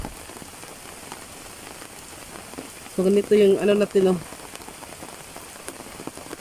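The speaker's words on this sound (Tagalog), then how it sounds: "Malakas na naman po talaga yung ulan." Heavy rain drums steadily on a surface during a typhoon near a flooded creek, a constant dense hiss throughout, with someone speaking briefly in the middle.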